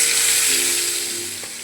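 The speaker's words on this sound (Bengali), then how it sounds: "মাছটা ভাজতে দিয়ে দিয়েছি" Tengra fish frying in hot oil, a steady broad sizzle with steam hiss that holds loud and close throughout, easing slightly toward the end, with no talk.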